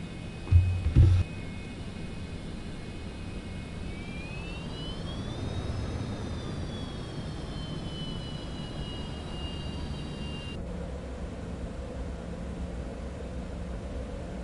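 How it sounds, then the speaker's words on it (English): An airplane taxiing in Microsoft Flight Simulator 2024 on PS5, with a steady jet engine whine and rushing hiss whose pitch rises and then eases, plus a couple of short thumps near the start, with no talking. "This is taxi on over."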